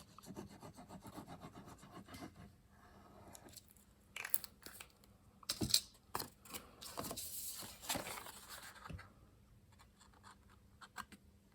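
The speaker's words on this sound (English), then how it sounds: "We're going to fold those down, and then we're going to glue those two bottoms together." Paper folded and creased for a pillow gift box, with scattered rubbing, scraping and crinkling close by on a quiet background.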